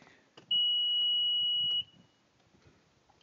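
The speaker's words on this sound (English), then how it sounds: "I thought the key was off that alarm wouldn't work." A vehicle alarm gives one steady high electronic beep lasting over a second, loud and close, with faint background sounds before and after.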